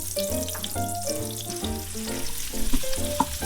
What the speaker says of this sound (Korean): 마늘하고 양파를 한번 볶아볼게